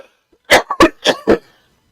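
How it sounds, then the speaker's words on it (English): A man coughs several times in a close, rapid burst of four or five harsh hacks, with a brief throat-clearing catch between them, then quiet. "Pardon my coughing."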